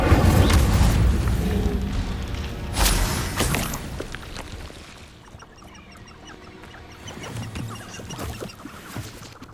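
Incendio fire spell cast in the Hogwarts Legacy video game, with a few loud booming, fiery bursts early on that fade into a softer, crackling game ambience.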